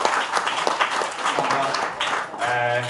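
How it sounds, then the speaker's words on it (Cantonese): Applause from a seminar audience at a Hong Kong forum on Legislative Council election fairness, a steady wash of clapping that runs the whole time with voices and a tonal sound mixed in near the end. "好，俾啲掌聲大家。"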